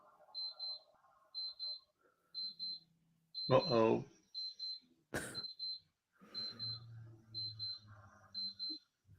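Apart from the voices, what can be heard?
wristwatch alarm beeping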